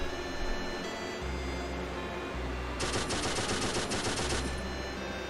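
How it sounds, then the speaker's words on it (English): Heavy machine gun in Pixel Gun 3D fires in a sustained rapid burst over steady game music, the dense automatic volley loud and close for about two seconds before stopping. "I really like the heavy machine gun"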